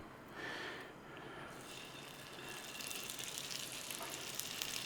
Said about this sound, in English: sear off that beef, put it in the Instant Pot liner